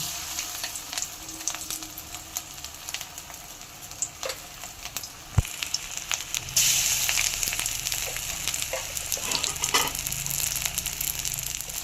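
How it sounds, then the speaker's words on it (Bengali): Gram-flour-coated spiny gourds (kakrol) frying in hot oil, a close, steady bubbling sizzle with scattered crackles and occasional utensil clinks, growing louder and denser about halfway through, with no voices. "অল্প একটু করে বেসন দিয়ে কোট করে সব কাঁকরোলগুলো ভেজে নেব"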